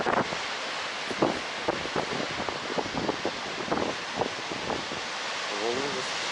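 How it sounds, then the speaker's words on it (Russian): Waves of the Baltic Sea break against a seaside promenade in high surf, a steady broadband roar mixed with wind buffeting the microphone, with brief bursts of nearby voices. "Волны достаточно высокие."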